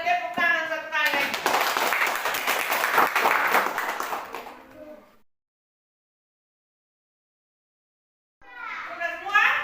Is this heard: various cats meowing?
no